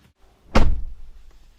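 A single solid door thunk, like a car door being shut, loud and close, with a short rumbling decay afterward in a quiet setting.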